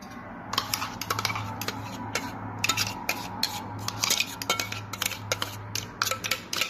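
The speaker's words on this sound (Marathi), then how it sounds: "हा गर सगळा मी पातेल्यात काढते." Raw mango pulp being scraped from a utensil into a cooking pot in a home kitchen, producing faint, irregular metallic scrapes and clinks repeating throughout with no talk.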